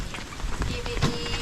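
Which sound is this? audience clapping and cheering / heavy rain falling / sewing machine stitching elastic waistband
heavy rain falling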